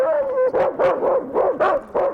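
Huskies at the Denali sled dog kennels in Alaska bark in a rapid run of five or six loud, close yaps and bow-wows after an opening whine, with no voices over them.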